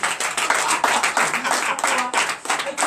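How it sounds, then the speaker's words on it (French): Rhythmic hand clapping from a church congregation during a Sunday worship service, steady and fairly close, with a faint voice underneath. "Donnez l'acclamation à Jésus"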